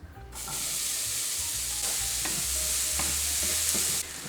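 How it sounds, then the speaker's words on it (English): Diced red pepper and onion sautéing in bacon grease, a loud, steady sizzle that swells as the vegetables hit the hot pan and holds for several seconds, with faint low stirring bumps underneath. "I'm going to add in about 1/2 cup of chopped up or diced up red pepper and 1/2 cup of onion. And we're just going to saute this until it's softened"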